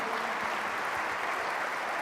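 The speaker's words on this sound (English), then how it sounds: "Give yourselves a round of applause." Steady, moderately faint applause from a large audience at a realtors' conference and expo in Chicago, an even wash of clapping without pauses.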